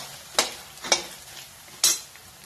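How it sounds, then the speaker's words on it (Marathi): Finely diced pieces for sabudana khichdi fry in a pan, with three distinct spatula stirs and scrapes cutting through a low, steady sizzle; no talking. "आता हा चांगला भाजून घ्यायचा."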